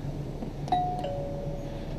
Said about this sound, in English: Yes, this trailer does have a doorbell.